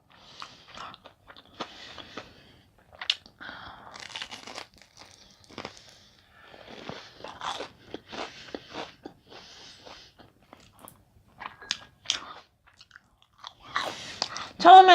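Close-up crunching bites and chewing of crispy fried shrimp tempura, with irregular crisp crackles and quiet pauses between mouthfuls, ending in a louder burst of crunching.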